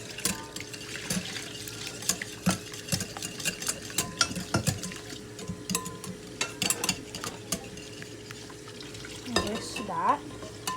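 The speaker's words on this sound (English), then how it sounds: "now we're going to mix it quickly" Honey chicken batter being stirred quickly after garlic powder goes in, with wet, rhythmic scraping and clinks of a utensil against the bowl, close but fairly soft, with a brief louder knock near the end.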